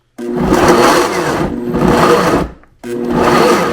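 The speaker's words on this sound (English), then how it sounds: "I'm just pulsing it because the celery and the carrots can get stuck in the blade" Food processor chopping celery and carrots, three loud whirring pulses of about a second each, separated by short pauses, close and with no voices.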